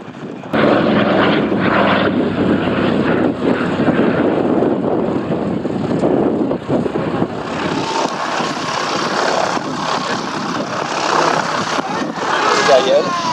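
A Douglas DC-3 propeller airplane drones loudly and continuously, its engine roar close with wind buffeting, while a voice talks over it.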